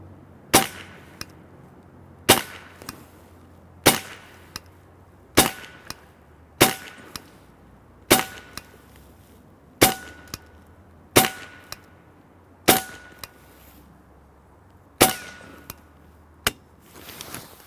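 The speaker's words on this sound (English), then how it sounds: "we had to shoot a couple pieces of our 50 cal brass on the table there" A PCP semi-automatic .22 air rifle fires a dozen evenly spaced sharp shots, each cracking at roughly one-and-a-half-second intervals, some followed by a faint metallic ping from hitting 50 cal brass on a table.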